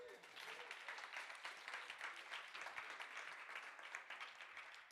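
Crowd applause at a live-streamed event day, dense continuous clapping from many people that holds steady for the whole stretch, somewhat distant and soft.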